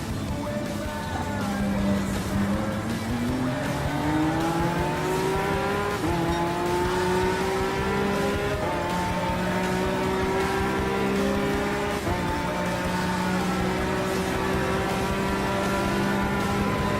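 Race car engine in Gran Turismo Sport with the Mulsanne approaching, a loud, steady high-revving drone whose pitch climbs through gear changes, shifting roughly every few seconds, continuous and close throughout.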